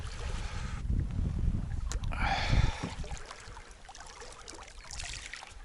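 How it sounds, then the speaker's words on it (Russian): Water gushing and trickling from beneath a flat-bottomed river boat built for shallows, a close, rushing flow with splashy bursts, heard outdoors with some wind. "вода из-под низа идет."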